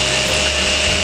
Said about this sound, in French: Donc cette ponceuse quand même est pas mal parce qu'elle permet d'arracher un petit peu de la matière.